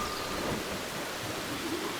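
Steady in-game rainfall in Assassin's Creed Black Flag, a dense continuous hiss of rain with low rumbling underneath, moderately quiet and unbroken, with no talk.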